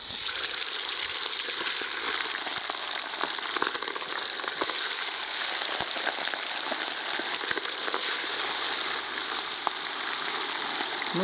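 Chicken pieces fry in a new 12-litre kazan with a continuous, even sizzle and dense crackle, steady and close throughout with no voices.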